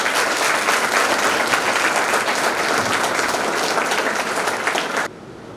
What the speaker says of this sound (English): With huge round of applause.